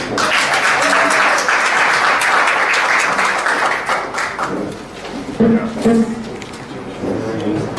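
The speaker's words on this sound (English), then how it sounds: "A round of applause for Roxanne" A crowd applauds loudly and steadily, the clapping fading somewhat toward the end as voices and cheers mix in.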